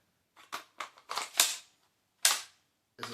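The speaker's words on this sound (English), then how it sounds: "then you hear that magnet click" A magnetic retention on a T40X duty holster releasing with a series of sharp, close clicks and snaps, spaced irregularly with short silent gaps between them.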